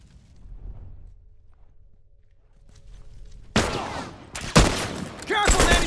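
Rifle gunfire in The Last of Us erupts after a few quiet seconds: a run of loud, close shots and overlapping bursts in quick succession that dominate the end of the scene.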